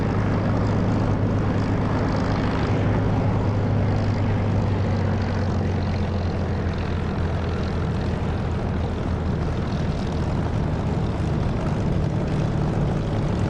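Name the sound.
jet aircraft flying in DCS flight simulator video game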